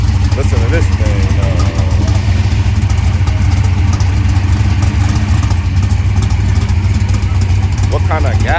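A Dodge Challenger Hellcat Redeye at a Mopar car show rumbles loudly and steadily close by, its deep engine note holding at a heavy idle with a slight rev, while people talk nearby.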